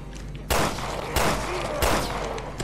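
Gunfire in Resident Evil Revelations 2: three loud, sharp shots spaced roughly half a second apart, each ringing out over a steady game background rumble.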